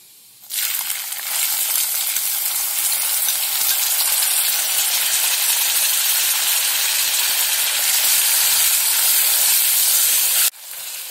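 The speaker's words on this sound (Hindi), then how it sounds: "प्याज का कलर चेंज होने तक हम इसे भून लेंगे" Chopped onions fry in hot oil with cumin in a kadai, a loud, steady broadband sizzle that starts abruptly and runs evenly for about ten seconds before dropping away.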